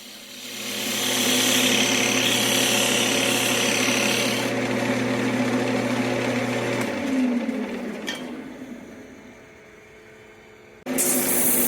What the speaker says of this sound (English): Now I'm just doing some slight shaping on the outside of the bowl.